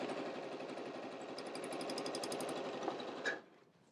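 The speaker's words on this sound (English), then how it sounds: "So I realign this edge, presser foot down, and keep on sewing." A sewing machine runs steadily at close range while stitching a fabric pillowcase, giving a fast, even mechanical chatter that stops abruptly near the end. No voices are heard.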